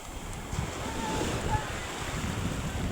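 Ocean waves wash ashore at the seashore as a continuous broadband rush with steady wind noise buffeting the microphone, with no distinct breaks between surges.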